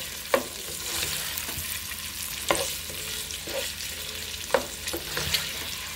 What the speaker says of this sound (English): I'm just going to saute this.